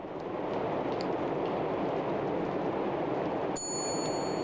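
A single bright ding from a hotel reception desk bell in the horror game Fobia, ringing clearly over a steady roar of heavy rain and lingering briefly.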